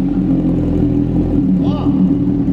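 A Honda Hornet motorcycle engine revs with a close, loud rumbling drone, and someone talks over it.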